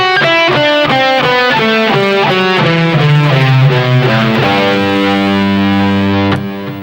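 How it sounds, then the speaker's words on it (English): A Dorian scale played note by note on heavily distorted electric guitar, a loud, steady run of sustained tones climbing and then descending, ending on a held final note. "we're going to add 2 notes to make what's called a Dorian scale"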